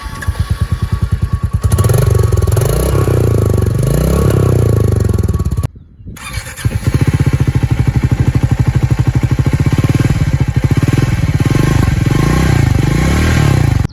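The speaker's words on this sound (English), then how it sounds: "Now let us listen to the exhaust notes." A Triumph Scrambler 400X or Royal Enfield Meteor 350 motorcycle engine runs with a rapid, throaty exhaust pulse, briefly cutting out midway before revving back up loud and close.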